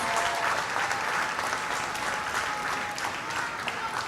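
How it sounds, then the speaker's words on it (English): Steady audience applause at a fashion runway show during Miami Fashion Week, a continuous wash of clapping from a sizable crowd that holds at an even level throughout. "please give them a round of applause"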